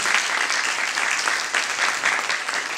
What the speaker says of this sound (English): Can we give Michelle a round of applause?